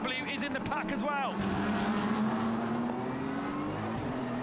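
GT race cars at the Okayama circuit pass in a pack during a GT World Challenge Asia race, a loud continuous engine roar with a rising pitch sweep, under commentary talk.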